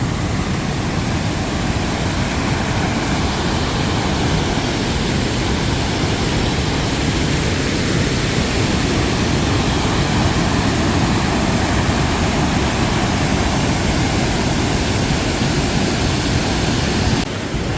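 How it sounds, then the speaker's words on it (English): A small waterfall pours out from beneath an old stone wall or bridge on a hiking trail, a steady broadband rush of water that stays loud and unchanging throughout, with no voices. "there's another little waterfall coming out from underneath there"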